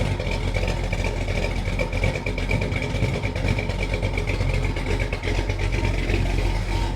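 A 1976 Chevy Nova engine running rich idles steadily and close by through new headers and pipes, a continuous rumbling drone with a rough, uneven texture throughout, no voices.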